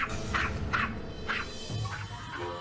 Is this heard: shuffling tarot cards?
no